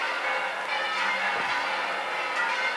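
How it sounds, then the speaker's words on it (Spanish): Cathedral church bells ring steadily under a dense wash of outdoor crowd noise during a religious procession, their tolls blending into a continuous, moderately loud background with no clear separate strikes. "Siguen tañendo a pleno pulmón, si me permiten la expresión, las campanas"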